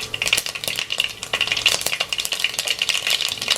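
Rapid, dense crackling and popping of mustard seeds spluttering in hot oil, close and fairly loud, with no voices.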